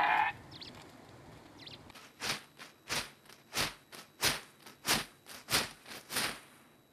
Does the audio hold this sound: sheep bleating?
yes